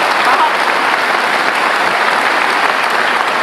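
Sustained applause from an audience at a town-hall style gathering with Ahok, a dense, steady roar of many hands clapping, loud and continuous throughout.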